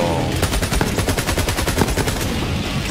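Rapid automatic gunfire in the video game Borderlands 3, loud and continuous bursts of closely spaced shots filling the whole stretch with dense, steady rhythm and no talking.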